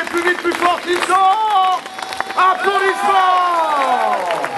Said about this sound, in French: Et je vous demande de taper de plus en plus fort et de plus en plus vite